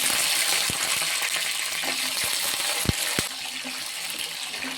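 Washed garlic crackles and sizzles in hot oil with urad dal for dry fish curry, a steady frying hiss broken by scattered sharp pops from water and one louder spit. Nobody speaks.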